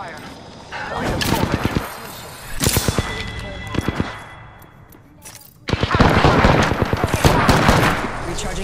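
Rapid bursts of gunfire in the Apex Legends battle royale game, loud sharp volleys clustered in several intense spells with brief lulls, mixed with game effects and talk.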